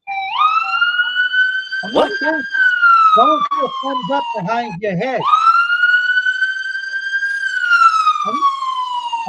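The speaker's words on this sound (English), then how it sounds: "That was the ambulance." Wailing siren of a passing ambulance, loud and close, sweeping up and down in long tones with a quick yelping stretch in the middle, while people talk over it.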